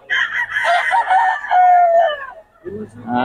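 A rooster crows loudly and close by, a long drawn-out call, followed by another crow starting as a voice speaks underneath.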